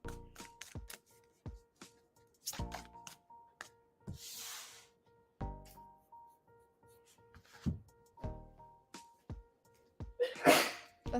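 A single sharp sneeze from someone during a live tarot reading, a short hissing burst standing out amid soft shuffling and handling of tarot cards, fairly close and alone.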